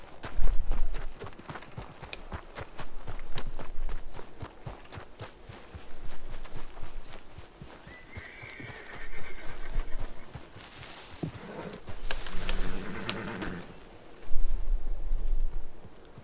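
Rhythmic hoofbeats of a horse in the video game Red Dead Redemption clip-clopping at a steady pace, with bursts of brighter noise partway through.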